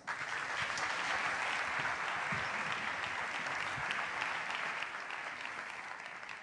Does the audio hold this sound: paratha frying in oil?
no